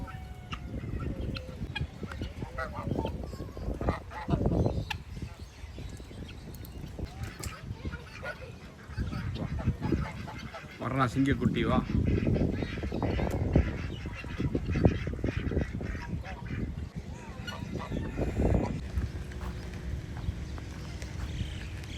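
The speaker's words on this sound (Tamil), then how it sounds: "இந்த கொண்டை வச்ச வாத்து பாருங்க, கொண்டை வச்சுக்குது." Crested ducks honk and quack around a farmhouse in Ras Al Khaimah, repeated calls of varying closeness over a busy outdoor background, with someone speaking now and then.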